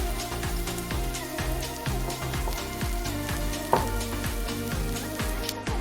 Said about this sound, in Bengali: তেলটা হালকা গরম হয়ে গেলে ওর মধ্যে দুটো তেজপাতা আর গোটা গরম